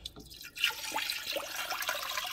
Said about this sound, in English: You want to add 8 cups of water.